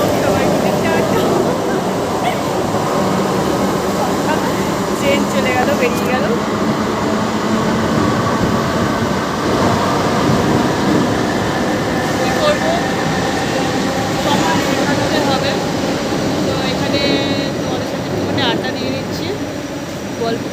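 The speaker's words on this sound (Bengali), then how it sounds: "ট্রেনটা যাচ্ছে ট্রেনটা বেরিয়ে গেল" A Kolkata-style metro train rumbles and rattles continuously as it pulls out of the station, nearly empty. The sound stays loud and close, with faint voices now and then.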